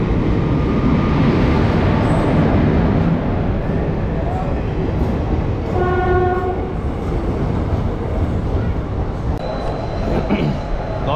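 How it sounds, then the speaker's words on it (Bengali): Rampurhat-Katwa passenger train at a station, a loud rumbling roar of moving carriages with a brief horn blast midway, people's voices mixed in. "এবারে যে ট্রেনটা ধরবো সেটা হচ্ছে কাটোয়া প্যাসেঞ্জার, রামপুরহাট কাটোয়া প্যাসেঞ্জার।"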